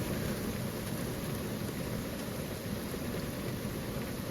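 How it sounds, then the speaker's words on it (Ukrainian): Steady heavy rain pours over open fields during the grain harvest, a dense, continuous hiss with a low rumble underneath and no talking. "А це вже дощик, йо-моє, а."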